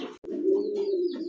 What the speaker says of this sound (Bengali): শুরুতেই দেখতে পাচ্ছেন দর্শক একজোড়া ধামাসিন কবুতর